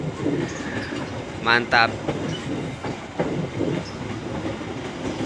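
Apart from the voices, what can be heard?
Garut Cibatuan local train at Kiaracondong station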